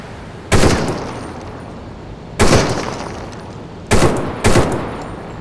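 Gunfire from guns in the VR shooter Crossfire Sierra Squad: four loud, close bursts spaced unevenly, each with a sharp attack and a short decaying tail, with quieter background sound between them.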